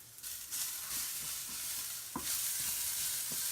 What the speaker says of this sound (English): while we continue to caramelize these onions